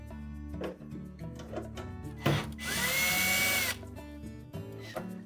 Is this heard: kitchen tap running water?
no